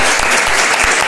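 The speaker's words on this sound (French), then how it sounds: "Est-ce qu'on peut l'applaudir ?" A conference audience bursts into applause, a dense, loud wash of many hands clapping close and continuous through the whole short stretch, with no voices audible.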